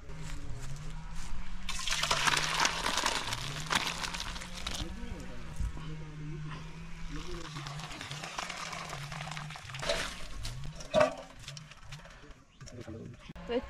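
Water pours off boiled mutton pieces in a village kitchen, a rushing splash that swells and fades in bursts while someone talks throughout.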